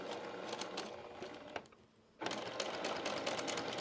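Sewing machine with a quarter-inch foot stitching a quilt block, running in a steady rapid whir, pausing briefly midway, then starting up again close and clear.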